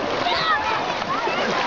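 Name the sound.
child splashing while swimming in a lake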